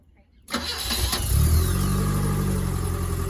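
A BMW E12 is started with the key: after a short silence the starter cranks and the engine catches within about a second, then settles into a loud, steady idle close by.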